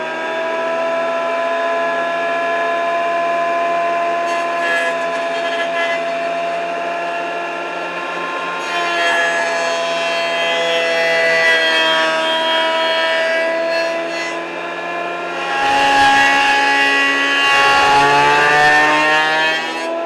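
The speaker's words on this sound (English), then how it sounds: "So we'll just square it up on the joiner" A wood jointer runs steadily as a glued-up striped acoustic guitar neck blank is squared on it, a loud sustained machine whine with a shift in tone near the end as the wood passes over the cutter.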